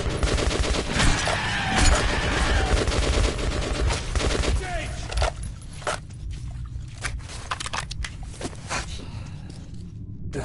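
Gunfire in the first-person shooter Metro Redux: a loud, dense run of sharp shots and bursts, heaviest in the first half, then thinning into scattered cracks over a rumbling game soundscape.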